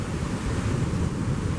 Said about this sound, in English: the tide pushing into the Mfolozi River as well